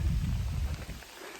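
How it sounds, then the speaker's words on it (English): Heavy rain pours down steadily on an exposed Appalachian Trail ridgeline, a dense, close wash of noise with no voices. "It's now pouring down"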